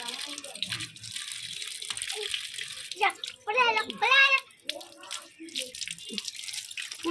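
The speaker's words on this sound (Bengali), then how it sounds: "বন্ধুরা ও এবার মুখ ধোবে" A child splashes water while washing their face outdoors under strong sun, with irregular wet splashes and trickling close by, mixed with a voice and adult talk throughout.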